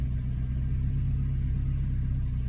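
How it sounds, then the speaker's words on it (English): A 1986 Porsche 944 Turbo engine idles at a steady low rumble, close and continuous with no revving or talk. "So just idling beautifully."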